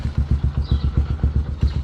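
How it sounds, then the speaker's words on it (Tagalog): A motorcycle engine idles nearby while warming up, a fast, steady chugging putter, even and unbroken throughout. "pinapainit ko na lang yung makina ni Mia"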